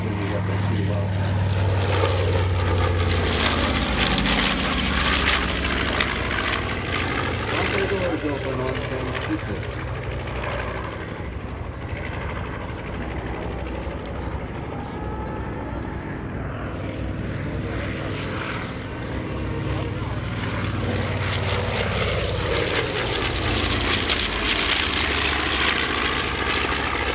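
B-25 bombers at a World War II airshow weekend flying past, a loud sustained propeller-engine drone rising and falling across the whole stretch, with crowd voices and talk underneath.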